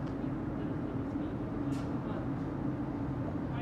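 An Inspiro metro train rumbles through Rondo ONZ station on a technical run, a steady loud low drone with a brief higher squeal partway through.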